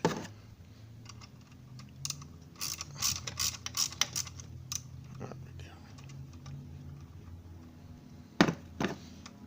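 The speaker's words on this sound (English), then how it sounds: "run your 10mm socket right down there" A ratchet with a 10mm socket loosens a bolt on a BMW 335d while working on the glow plug controller, giving soft clicking and clattering mechanical noises over low background hum, with a louder pair of metallic clicks near the end.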